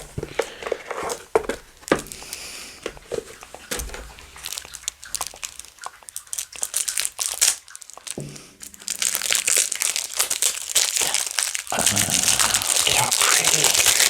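Tarot cards are pulled from their packaging with bursts of plastic crinkling and rustling, scattered at first and then more continuous and louder toward the end.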